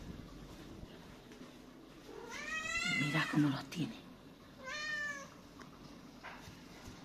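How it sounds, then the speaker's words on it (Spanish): Small kittens meowing in a few short, high-pitched bursts at close range, with someone speaking Spanish softly over them in a quiet indoor setting. "os voy a enseñar a los gatitos."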